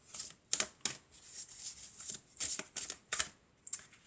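Fairy tarot cards are handled and drawn close up, giving several crisp slaps and sliding riffles in uneven bursts, bright and papery, with no talk over them.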